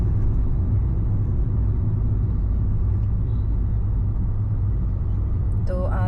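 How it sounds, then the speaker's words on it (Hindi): Dense Monday traffic on Hyderabad's Outer Ring Road, a constant loud low rumble of cars and heavier vehicles heard from inside a moving vehicle, steady throughout with a faint higher chirp near the end. "तो आज सोमवार है, तो आज ट्रैफिक है, तो देखिए बहुत ट्रैफिक है।"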